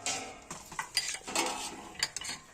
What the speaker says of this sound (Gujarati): તો હવે તાહડામાં પાથરી નાખશું।